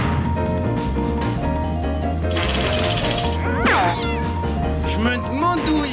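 A cartoon cat meows amid busy music and crashing effects, with a couple of rising and falling yowls standing out over the score.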